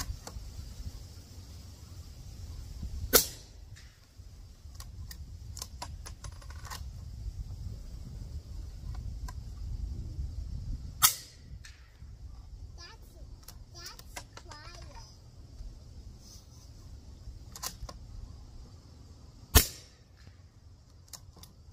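A rifle fitted with a Polonium 30 silencer fires 200 grain subsonic rounds: three sharp, muffled cracks spaced several seconds apart, fairly faint over a low background rumble.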